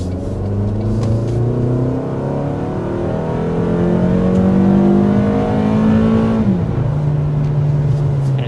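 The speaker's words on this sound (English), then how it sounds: "But first, we want to go ahead and start with a hard acceleration." A 2025 Toyota RAV4 with the standard gas-only engine accelerates hard downhill toward 60 mph, its engine drone climbing steadily in pitch, then dipping at a gear change before rising again, loud and close throughout.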